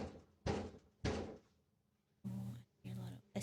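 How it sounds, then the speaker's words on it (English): Someone bangs on a screen door in a series of heavy thuds: two separate knocks, a pause, then two more, each dull and resonant, close by. "it sounds like Someone's banging on a door"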